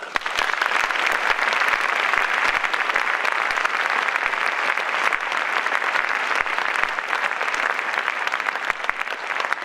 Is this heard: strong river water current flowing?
no